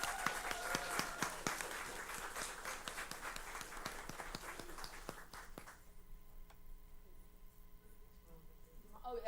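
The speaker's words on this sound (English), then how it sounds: "Let's give them another round of applause." An audience at a school board meeting gives a round of applause: crisp, scattered hand claps for about five seconds that thin out and fade into quiet room tone.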